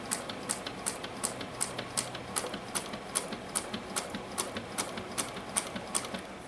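A sewing machine slowly stitches the exterior of a tote bag, giving a steady, even run of soft mechanical ticks about three per second over a low motor hum, close and moderately quiet.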